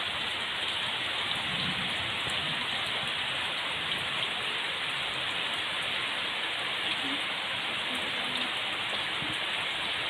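Heavy rain pours steadily onto a hut roof in the middle of rice fields during a thunderstorm, a dense, constant hiss of drops with no voices and no pauses.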